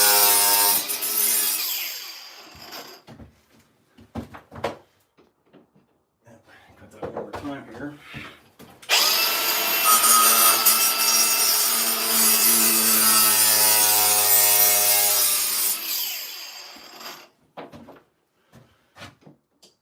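A power saw cuts through decorative accent tile in loud, sustained bursts of harsh grinding: a short cut near the start, a longer one of about six seconds in the middle, and some scraping and handling noise in between.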